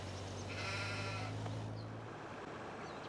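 Sheep in the video game Farming Simulator 22 give a short bleat over a steady low hum of game ambience, followed by a fainter second call.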